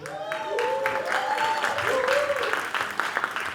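Audience applause at a music show, a burst of clapping from a crowd rising and holding steady, mixed with a host speaking over it.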